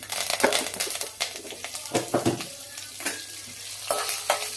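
Curry leaves and ajwain frying in hot oil, a close, busy crackle and sizzle broken by repeated scraping stirs against the pan, with no talk.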